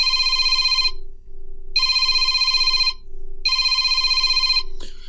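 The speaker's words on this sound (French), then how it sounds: "donc ça c'est la sonnerie que j'ai mis au téléphone" A ringtone from a HOMTOM HT17 smartphone plays three identical bright electronic bursts in an even rhythm, each about a second long with short gaps between, clear and close, followed by a brief tap.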